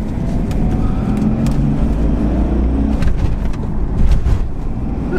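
BMW diesel car engine pulling in fourth gear, a loud, steady low rumble with road and wind noise from inside the cabin, swelling slightly toward the end.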